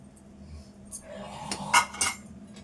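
Spoon stirring peanut chaat masala with lemon juice in a bowl, a few light scraping clinks of metal on dish building toward two sharper knocks near the end.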